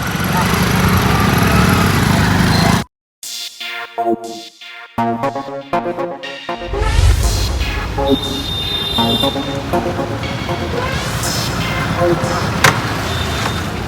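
A new motorbike's engine runs with a buzzing, light mechanical drone, loud at first, then cutting out briefly before resuming alongside people talking nearby.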